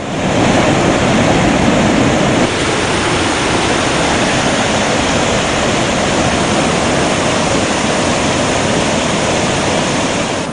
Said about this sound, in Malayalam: 1/2 കിലോമീറ്റർ പിന്നിടുമ്പോഴേ വെള്ളച്ചാട്ടത്തിന്റെ ഇരമ്പം കേൾക്കാം.